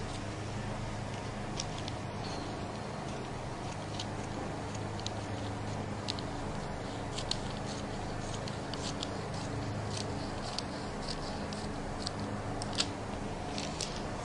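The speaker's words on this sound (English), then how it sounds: "Now we have cut this side out, so all we need to do is cut out the waist." Scissors cut out the waist of fabric for an A-line flared skirt, giving faint, scattered snips and clicks over a steady low background hum, with no talking.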